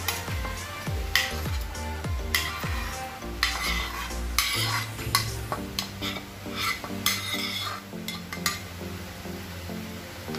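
Mackerel goes into a simmering mango fish curry, followed by steady stirring with a utensil scraping and clinking against the pot, close and fairly loud, with a soft bubbling background throughout and no talk.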